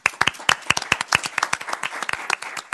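Applause from attendees at a city council meeting, a short burst of sharp, uneven hand claps, fairly close and fading slightly toward the end, with no talk over it.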